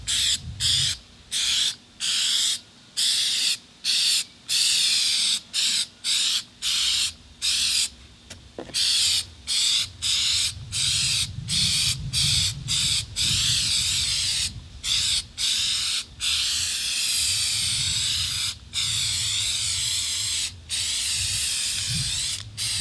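FlexSeal sprays from an aerosol can in a long series of hissing bursts, mostly short with brief pauses, then a longer, nearly continuous spray toward the end, loud and close with no talking.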